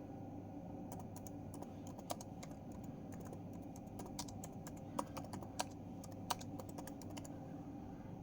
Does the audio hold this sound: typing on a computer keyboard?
yes